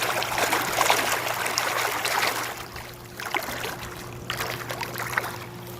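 A newly installed pool pump with filter and heater running, a steady low hum and watery trickling churn, fairly close, with intermittent clicks and rustles.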